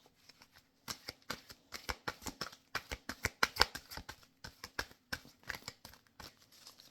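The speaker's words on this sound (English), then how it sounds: "One more shuffle, please," Tarot cards are shuffled by hand in quick repeated bursts of crisp riffling and slapping, close and fairly quiet, with short pauses between runs and no talking.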